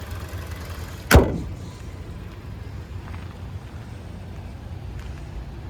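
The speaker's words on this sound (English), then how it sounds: "There's the engine." A 2025 Kia Soul engine idles with a faint, steady low rumble, broken by one sharp click near the start, and no voices.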